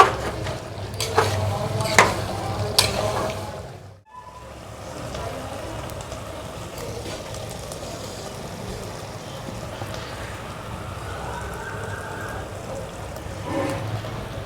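Mutton fries in spiced masala, with clattering stirs and scrapes at the start, then a brief pause and a steady low sizzle close by.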